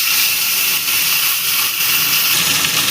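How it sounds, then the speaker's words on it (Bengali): Pieces of rohu fish fry in hot oil with a loud, continuous, hissing sizzle, close and steady throughout, with no one speaking. "মাছগুলো দিয়ে দিয়েছি, এবার ভালো করে ভেজে নেব।"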